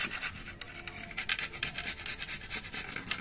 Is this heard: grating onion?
yes